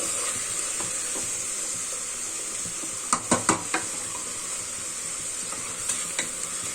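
Tomatoes seasoned with turmeric and salt fry on high flame in a pan, a steady loud sizzle running throughout, with a cluster of stirring scrapes and clinks in the middle and a few more near the end.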